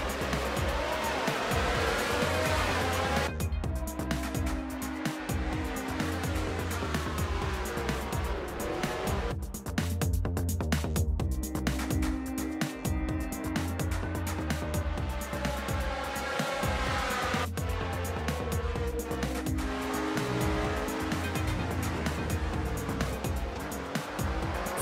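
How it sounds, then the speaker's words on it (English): Formula One race cars scream past one after another, high-revving engines rising and falling in pitch as they pass, with a constant roar of motor noise filling the whole stretch. "classic Formula One race."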